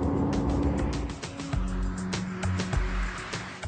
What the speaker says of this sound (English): you'll hear the CVT gearbox roar